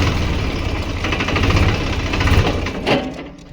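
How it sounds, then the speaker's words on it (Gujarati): A tractor engine chugs loudly and steadily close by, its rumble fading as it is shut off near the end. "ટ્રેક્ટર બંધ કરી નાખ્યું છે કમ્પ્લીટ."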